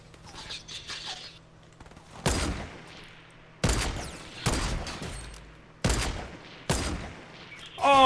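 Sniper fire in a video game cracks out as about five loud, sharp shots spaced a second or so apart, each ringing out briefly, over a quieter background of faint game sounds.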